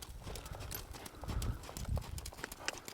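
A cow walks in a cattle-working session, and its hooves strike the ground in a quick, irregular run of clopping steps. The steps are faint and close, with no voices.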